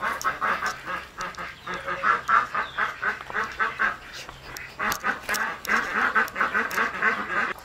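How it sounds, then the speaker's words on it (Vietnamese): Muscovy ducks quack repeatedly in a rapid, overlapping chorus, close and fairly loud, with no talk over them. "Nghe vịt bầu á."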